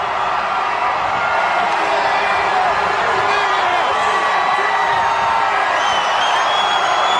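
A huge Times Square crowd on New Year's Eve just before the 1993 ball drop, a continuous dense roar of cheering and whooping with scattered shouts, loud and sustained throughout.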